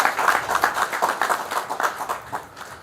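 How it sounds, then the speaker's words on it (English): An audience at a rural private hospitals convention in Kenya applauds, dense steady clapping from many hands that slowly fades, with no talk over it. "another proper round of applause for the President of the LSK"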